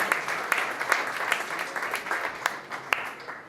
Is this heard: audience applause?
yes